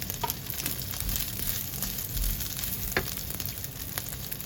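Chinese sausage frying in a pan without added oil, rendering its own fat, crackling and sizzling steadily with scattered sharp pops and stirring scrapes.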